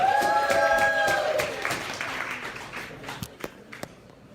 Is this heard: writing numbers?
no